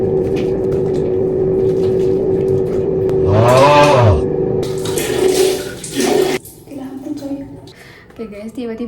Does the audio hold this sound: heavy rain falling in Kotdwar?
no